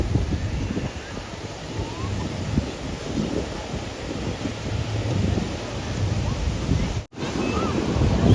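Sea waves wash onto Arambol beach at sunset, a soft continuous surf roar heard from nearby, with gusts of wind buffeting the microphone and one brief dropout near the end.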